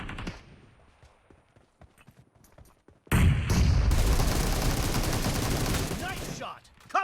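Video game gunfire: sparse sharp shots over the first three seconds, then a sudden dense, loud burst of continuous automatic fire sustained for about three seconds before cutting off.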